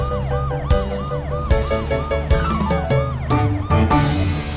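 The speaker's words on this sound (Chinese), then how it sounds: "超雷达警车雷克，超级汽车出动" Cartoon police car siren wails in a steady, repeated rising-and-falling pattern over a bright musical backing, loud and close throughout.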